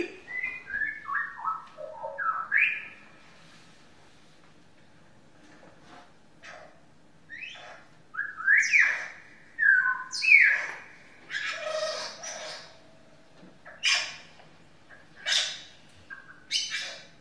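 A musician on stage imitates forest bird calls with an instrument, playing sliding whistles, chirps and squawk-like phrases in separated bursts over a quiet background.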